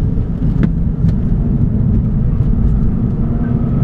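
A Volvo V60 Polestar on RE71R tires drives in manual mode with paddle shifters, a loud, steady low engine and road rumble inside the cabin with occasional small knocks, no talk.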